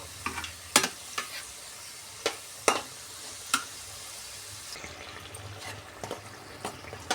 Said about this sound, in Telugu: ఈ విధంగా మనము ఫ్రై చేసుకోవాలి